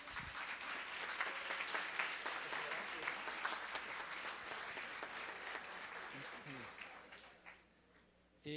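Audience applause for a teacher at a public-sector alumni panel: sustained, fairly loud clapping from a roomful of people that holds steady for several seconds, then tapers off near the end.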